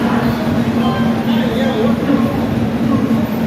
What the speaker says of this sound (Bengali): 5টার টাইম, 4:30 ট্রেন ঢুকে গেছে